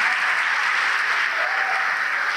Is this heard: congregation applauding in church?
yes